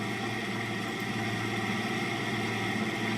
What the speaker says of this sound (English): It's such a nice sounding engine.